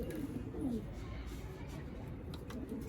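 Pigeons cooing in a loft, soft low coos rising and falling a few times over steady background noise, with faint chirps and stirring around them.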